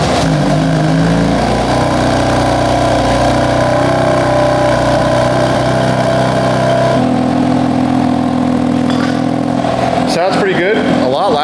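A BMW engine fitted with an equal-length midpipe and DIY exhaust, with the mid muffler deleted, starts up and settles into a loud, steady idle, its low rumble continuing throughout before the tone shifts near the end.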